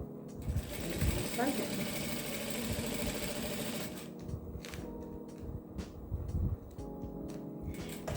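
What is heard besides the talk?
sewing machine slowly stitching plastic for a baby clothes organizer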